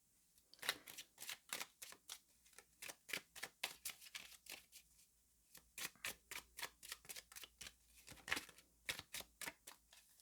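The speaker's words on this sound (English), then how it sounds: "Okay, so let's shuffle the cards." Cards being shuffled in quick riffling bursts, a crisp rapid flutter repeated many times with brief pauses between, fairly close and clear with no talking.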